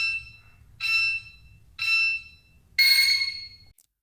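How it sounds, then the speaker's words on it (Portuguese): An LED smart timer panel beeping through its final seconds: three evenly spaced electronic beeps about a second apart, then a longer, brighter final tone, clear and close against a quiet background. "Nos 3 últimos segundos ele vai bipar."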